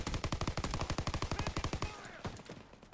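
Rapid, evenly spaced gunshots in a shooter video game, about twenty crisp close reports in quick rhythm, then a few sparser shots as the firing tapers off.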